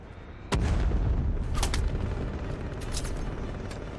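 Cobra drone cannon fire in Batman: Arkham Knight, a loud booming burst that hits hard and then rumbles on, with further sharp crackling shots layered over the sustained low roar.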